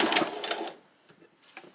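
A home sewing machine stitches along the edge of fabric for a pleated top, running in a short, fast mechanical burst before trailing off into faint, quieter clicks.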